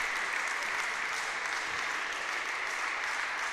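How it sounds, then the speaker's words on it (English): Members of the Grantham College team clap for their teammate after a table tennis rally, a dense, steady burst of applause from a small group in an indoor hall. "The Grantham College, hands in the air, clap their teammate."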